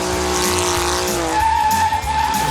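A car does a burnout, its engine roaring loud and close while the tires give a sustained squeal that rises to a steady high whine.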